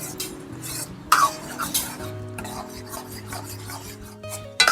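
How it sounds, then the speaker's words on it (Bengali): Semolina is stirred continuously in a pan while a carrot and sesame sweet is being made, giving close, rhythmic rasping scrapes of a spoon against the pan with a few louder knocks and no speech. "সুজিটা দেওয়ার পর অনবরত নাড়তে হবে, তা না হলে কিন্তু দলা পাকিয়ে যাবে।"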